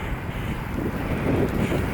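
Steady wind buffeting the microphone on a road bike ride, a constant low rumbling roar that swells slightly toward the end, with no voices.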